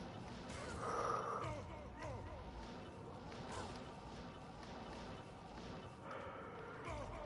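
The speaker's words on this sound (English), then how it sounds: "Oh, I shouldn't be yawning." A person lets out a single drawn-out yawn near the start, breathy and voiced, over steady background game sounds during a solo gaming session.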